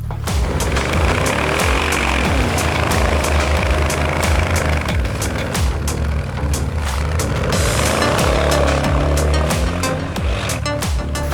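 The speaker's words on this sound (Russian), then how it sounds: "самый красивый звук в мире автомобильный. Кто бы что ни говорил, AMG-шный V8." A loud Mercedes-AMG V8 engine roars and revs repeatedly, rising and falling in pitch, with sharp crackles and pops between revs, close up.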